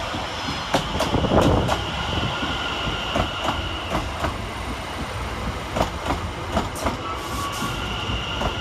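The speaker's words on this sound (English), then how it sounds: "710124 then arrives into the station, working the 1906 London Overground service from London Liverpool Street to Chingford" London Overground train 710124 rolls into Bethnal Green station, its wheels beating out a regular clickety-clack over rail joints, with brief squeals and a steady rumble close by.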